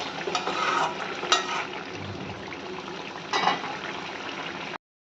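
Chopped coriander leaves are stirred into a simmering ridge gourd and potato curry with tangra fish, a steady bubbling sizzle broken by a few scraping strokes of a spoon against the pot, with no one talking.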